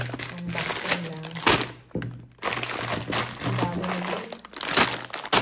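Gift packaging crinkling and crackling as a present from a friend is unboxed, busy close rustles with a few thunks, a constant low hum underneath and some faint talk.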